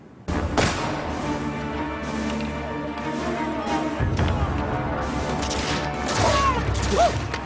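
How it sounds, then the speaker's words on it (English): Musket barrage from troops in battle: a dense, continuous crackle of overlapping gunshots and booms, loud and close, sustained for several seconds with a heavier burst near the end. "The redcoats ran directly into a ceaseless barrage of musket fire from Jackson's troops."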